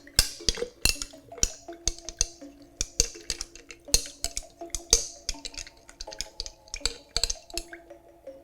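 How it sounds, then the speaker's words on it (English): A spoon stirs sangria in a glass pitcher, and it clinks and rattles again and again against the sides amid sloshing liquid, with steady, close, bright hits throughout. "I'm just going to give this a quick stir to make sure it's all very well combined."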